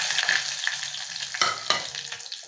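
Hot oil sizzling in a pan while cooking khichdi, a close, steady hiss with a few soft stirring scrapes and no voices.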